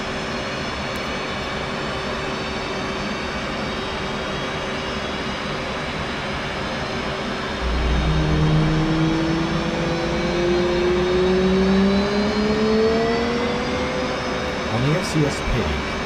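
An F/A-18C jet engine spools up during a cold start in the DCS World flight simulator, a steady whine and rising tonal hum growing louder midway through, heard alone with no talking.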